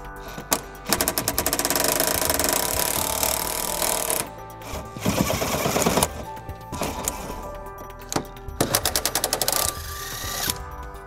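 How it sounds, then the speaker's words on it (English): Rapid rattling bursts from a power tool driving an 18 mm socket on the bolts of the driver's side frame rail of a 2002 Jeep Grand Cherokee, several loud, close runs separated by brief pauses. "We'll be using an 18 millimeter socket to remove those."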